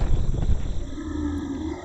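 A deep, rumbling sandworm roar in a video game (The Darkside Detective: A Fumble in the Dark), loud and close, swells briefly then settles into a sustained growl lasting under two seconds.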